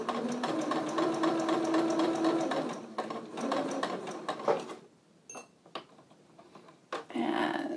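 A sewing machine stitches the short cuff sleeves of a box dress in steady mechanical runs that stop and start, giving way midway to a few clicks and handling taps before stitching resumes, heard close and fairly quiet.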